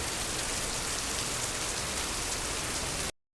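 Heavy rain pours at Masjid Nabawi in Medina, a dense, even hiss of drops striking surfaces, close and constant before cutting off abruptly.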